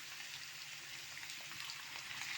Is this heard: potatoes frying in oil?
yes